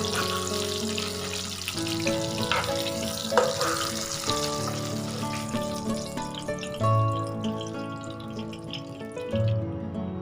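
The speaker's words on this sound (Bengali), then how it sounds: "আমি এবার শুকনো লঙ্কা দিয়ে দিলাম, সর্ষে দিয়ে দিলাম, কারি পাতা দিয়ে দিলাম, কয়েকটা রসুন দিয়ে দিলাম।" Dry chillies, mustard seeds, curry leaves and garlic sizzle in hot oil for a South Indian style eggplant dish, a continuous loud frying crackle with brief stirring and dripping sounds, no talking.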